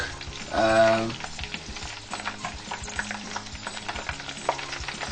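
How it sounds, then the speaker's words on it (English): A Scotch egg sizzles and crackles in hot oil, a steady frying hiss with a brief louder burst near the start and faint clinks of stirring. "it's been frying for 10 minutes now."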